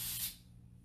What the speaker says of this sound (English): I lift it and I spray it everywhere.